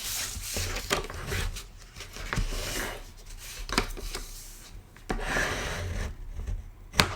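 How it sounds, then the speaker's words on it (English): Paper gift bag being burnished along its score lines with a tool, repeated close scraping and rubbing strokes with occasional sharper taps, alone and moderately quiet. "we're going to go ahead and burnish all of this"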